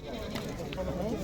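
A goat bleating at a livestock market, a short wavering cry among the bustle and steady murmur of the crowd.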